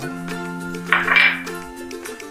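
Crushed chilli is spooned into a pan for fried chilli prawns, giving one short metallic clink and scrape of the spoon on the pan over a steady background hum.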